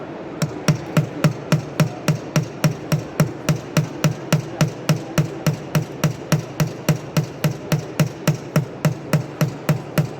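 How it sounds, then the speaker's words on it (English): Steady hand hammering while assembling a Victorinox pocket knife: a long run of sharp metallic blows at an even, brisk rhythm, close and loud, about two strikes per second. "so I do it really traditionally, just with the hammer"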